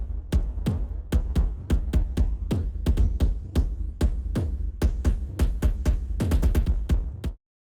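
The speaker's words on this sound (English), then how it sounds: "I use damage 1 for the kick sound." A heavily processed kick drum track from the Damage 1 library plays a driving pattern that follows a main pedal. Deep, booming, saturated hits repeat steadily, and a quick flurry of hits comes near the end before the sound cuts off.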